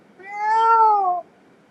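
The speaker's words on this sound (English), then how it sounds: "it was a cat." A cat gives a single clear, drawn-out meow lasting about a second, loud and close, with near silence before and after.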